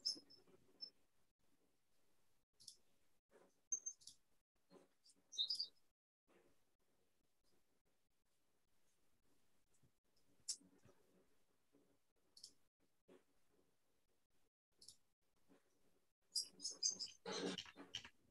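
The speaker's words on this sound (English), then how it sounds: "Do you have birds?" Birds from the house next door chirp and click faintly in scattered short bursts over a quiet room, with a brief busier flurry near the end.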